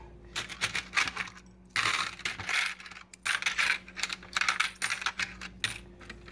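Loose coins are dumped into a coin counting machine, producing dense bursts of jingling, clattering metal in several waves with brief pauses between them, with a steady machine hum underneath.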